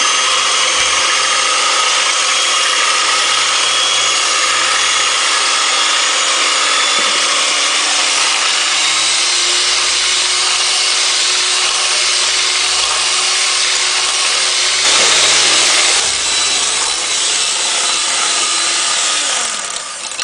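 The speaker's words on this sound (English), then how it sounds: "this is rather loud with the mixer" Electric mixer whipping heavy whipping cream in a bowl, a loud steady motor whir running continuously, with a slight pitch shift partway through and a brief rise near the end.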